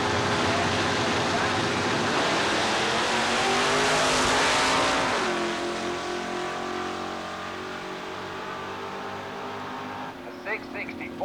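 A drag car at a 1990 Southeastern Dragway weekly race launches with a loud, roaring engine that fades away down the strip. An announcer's voice runs over the noise.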